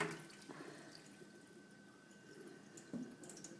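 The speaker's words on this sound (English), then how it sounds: "the matza, so we're going to drain the water." Water poured off soaked matza, a faint, soft trickle and a few drips with a small splash near the end, close and quiet.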